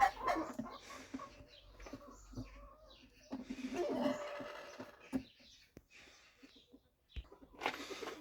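Gray Ataks chickens in a coop cluck and call quietly in short, irregular bursts, with faint rustling and a person's voice now and then.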